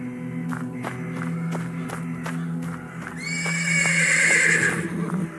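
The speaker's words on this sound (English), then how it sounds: "The persistent neighing of a horse can be heard from the stables." Horse in the game Black Book gives a long, loud whinny after a run of steady clip-clop hoofbeats, the neigh rising bright and close over the stable ambience.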